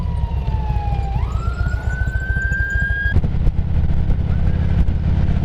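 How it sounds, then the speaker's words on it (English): A loud ambulance siren wails with a gliding, rising pitch over heavy road and engine rumble, the vehicle passing close by in Florida. "Let's pull over and wait for the ambulance here"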